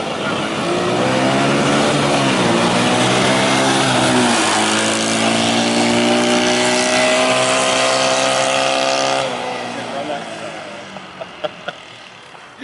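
A small go-kart engine with a clutch lever revs up loud and close, its pitch climbing steadily through the gears, then drops away to idle near the end, followed by a few light knocks.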